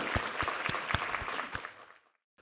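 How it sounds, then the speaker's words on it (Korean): A church congregation gives a round of applause during a worship service, with sharp individual claps standing out in a steady, fairly close burst that fades out after about two seconds. "우리 하나님께 감사와 영광의 박수 올려드리겠습니다."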